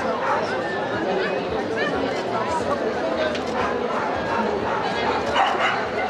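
Dogs bark and yip from a shelter group at an adoption parade in Torrelavega, their scattered, nervous calls mixed into crowd chatter and nearby talking.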